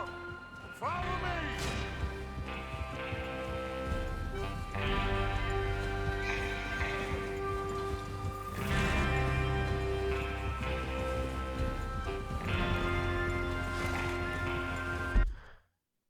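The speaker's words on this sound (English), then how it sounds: "Get your horses ready." Horses ride in Red Dead Redemption 2 beneath a sustained orchestral game score, with the riding blending into the music for most of the stretch before everything cuts off abruptly.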